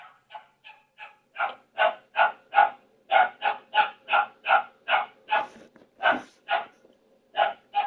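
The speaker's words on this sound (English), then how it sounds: "my dog she's a barker" A pet dog barks repeatedly and loudly, close by, in a steady run of about twenty sharp barks with short gaps between them, all of nearly even strength.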